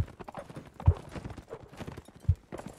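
Horse hooves clip-clop in a multiplayer video game battle, a quick uneven run of thuds with a couple of louder hits, close and alone without talk.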